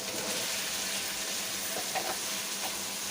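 Potatoes dropped into hot spiced masala in a pan, a steady broadband sizzle with faint stirring clinks, close and continuous throughout.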